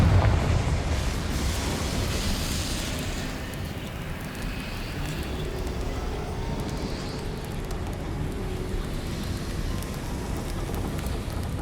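Confringo fire spell explosion in Hogwarts Legacy, a loud burst at the start decaying into a sustained crackling, rain-like roar that fills the rest of the scene.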